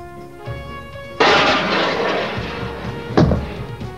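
A Mirage aircraft launches a Matra missile: a sudden loud roaring whoosh with a blast edge that holds briefly and fades, followed by another sharp boom close behind, over a droning background.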